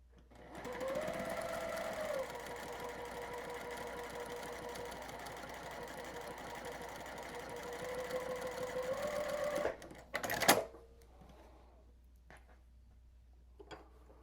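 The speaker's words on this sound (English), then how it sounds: "then we just sew the rows" Sewing machine stitching quilt rows, running close and steady for about nine seconds with a rhythmic mechanical whir, then stopping with a clunk of handling noise.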